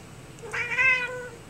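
A cat gives a single clear, whining meow, rising and falling over about half a second, heard close against a quiet background while cats wait by their food.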